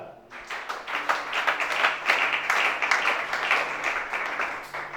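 A church audience applauds for Shana with dense, steady clapping that swells after a brief quiet start and holds at a lively level for several seconds.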